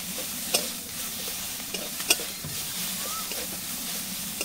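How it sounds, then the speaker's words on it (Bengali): Onion, ginger and garlic fry in a pan while being stirred, a soft continuous sizzle with a few sharp clinks of the spatula against the pan. "আদা রসুনটা দিয়ে ভালো করে ভেজে নেবো।"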